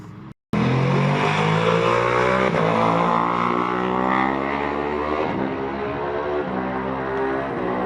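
A Ducati World Superbike racing engine on track catches abruptly after a brief silence and roars loudly, then revs up and down in a sustained, harsh, close-up blare.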